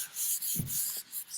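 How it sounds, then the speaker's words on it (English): A fine sanding pad rubs over painted upholstery fabric with short, soft scratchy strokes, a few quick back-and-forth passes close up and fairly quiet. "I'm using a fine sanding pad so that I don't sand off too much paint"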